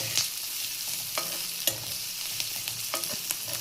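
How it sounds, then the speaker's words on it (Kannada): Chopped capsicum frying in a pan for a beetroot sandwich filling, with a steady close sizzle and sharp scraping stirs of a spatula at irregular intervals. "ಕ್ಯಾಪ್ಸಿಕಮ್ ಹಾಕಿ ಫ್ರೈ ಮಾಡಿ ಹಿಂಗೆ ಫ್ರೈ ಮಾಡ್ತಾಯಿರಿ."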